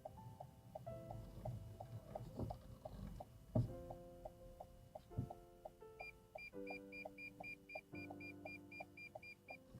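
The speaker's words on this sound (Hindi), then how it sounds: "सेंसर है ना, तो इस वजह से ये टिक टिक टिक कर रही है।" A parked car ahead emits a parking sensor's repeated beeping ticks in a steady, evenly spaced rhythm, heard faintly from inside another car along with low rumbles and a couple of thumps.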